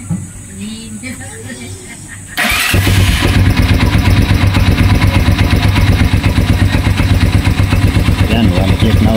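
A motorcycle engine, with its starter just repaired, cranks and catches, then runs loud and close with a steady, rough idle after a moment of quieter background sound.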